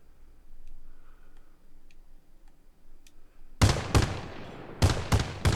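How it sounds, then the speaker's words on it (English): Main cannon of a LAV-25 armored fighting vehicle firing in Arma Reforger, heard as a quiet lull followed by sharp, loud, booming shots spaced irregularly, two close together and then a quicker burst near the end. "That's the main cannon."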